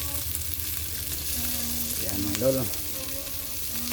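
Dried fish (buwad) simmering in coconut milk, stirred in the pot: a steady soft sizzle and bubbling with faint scraping, a brief voice breaking in partway through.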